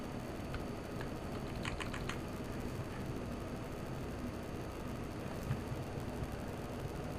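Someone types on a computer keyboard, a quiet, rapid, irregular pattern of soft key clicks over a steady background hiss, with no talking.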